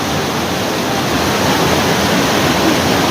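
The Lidder River in Kashmir rushes past in a dense, unbroken roar of flowing water, loud and close, with no voices over it.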